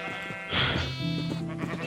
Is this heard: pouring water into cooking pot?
no